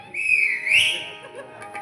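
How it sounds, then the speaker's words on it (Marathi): Whistling at a Marathi devotional gajar performance contest, a clear high whistle that swells and bends upward, then fades into quieter wavering notes over faint background. "जबरदस्त शिट्टी बिट्टी भारीच वाजवतात."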